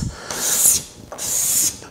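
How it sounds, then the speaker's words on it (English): A card scraper is drawn by hand over wood to raise thin, wispy shavings, making two bright, hissing scraping strokes, each about half a second long, with a short pause between them, close and fairly loud. "So that's the card scraper."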